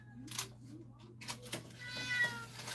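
A pet cat in a home kitchen gives a few short, plaintive meows close by, between scattered clatter and soft background hum.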